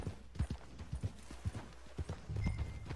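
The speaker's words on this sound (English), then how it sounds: "Get off your horse." Horse hooves clip-clopping at a steady walking rhythm in Red Dead Redemption 2 Online, close and fairly clear over a low ambient background.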